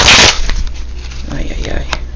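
Oracle cards being shuffled in a brisk burst of papery riffling at the start, close and fairly loud, then fading into quieter handling and light rustles.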